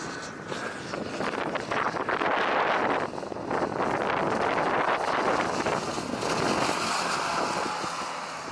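Strong winter wind on a mountain trail toward Śnieżnik, roaring and buffeting the microphone continuously and loudly, swelling and dipping in gusts with no voices heard.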